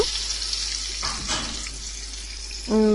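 Spice masala with a little ground onion paste frying in a pan for a quail roast, giving a steady sizzling hiss throughout, with a brief louder clatter near the end.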